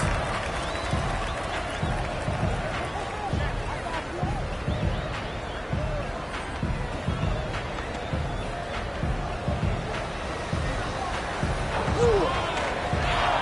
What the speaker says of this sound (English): Boom, the dunk.